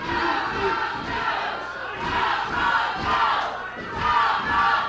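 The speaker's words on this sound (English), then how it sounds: "You hear the fans here." Wrestling arena crowd at a televised OVW event, fans yelling and jeering in a loud, continuous roar that swells and dips in waves, no clear speech on top.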